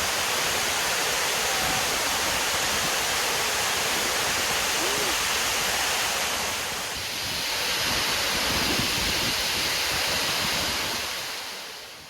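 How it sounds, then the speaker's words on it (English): A dense, continuous roar of water cascading over the Derwent Dam wall, heard close and loud, with no talking and a brief dip in intensity partway through. "the amazing force of the water coming over the top of the Derwent Dam"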